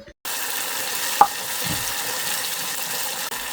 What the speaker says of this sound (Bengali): মশলাটা ভালো করে ভাজা হইলেই